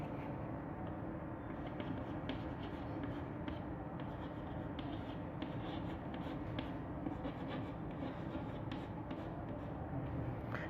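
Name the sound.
writing words on a board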